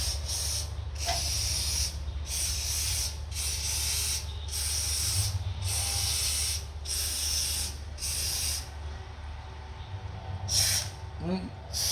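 Repeated bursts of aerosol lubricant spray onto the exhaust valves of a 1967 Dodge Coronet 440 Six Pack engine, about eight in a steady rhythm, hissing close by over a low engine-like hum, then one more short spray near the end.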